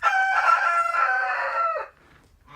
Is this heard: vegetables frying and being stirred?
no